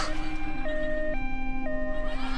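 An ambulance siren sound effect plays nearby, a loud wailing tone switching steadily between two pitches with no talk.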